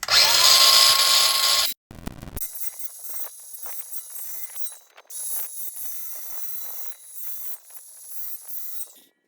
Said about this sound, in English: So now I'm gonna polish up both sides, like so